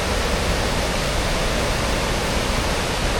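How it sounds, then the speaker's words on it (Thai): A large waterfall and stream pour inside a cave area at the foot of a cliff, making a steady, loud broadband rush that fills the whole moment without pause or voices. "ตอนนี้ก็มาเจอกับ น้ำตกลำธารขนาดใหญ่แล้วครับ"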